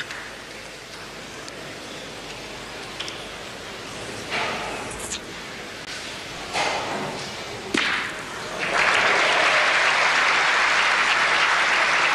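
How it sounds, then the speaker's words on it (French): Large crowd applauding in a packed boulodrome at a petanque final, steady clapping that swells into a loud, dense burst toward the end, with a few sharp impacts along the way. "Applaudi comme il se doit par le très nombreux public chalonnais"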